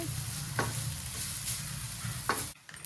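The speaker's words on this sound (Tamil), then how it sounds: "தேங்காயை துருவி வச்சதை எடுத்து போட்டுட்டு அதுக்கப்புறமே நல்லா கலந்து விடணும்" Grated coconut being stirred into a frying mashed green plantain mix, soft scraping strokes against the pan over a steady sizzle, ending abruptly.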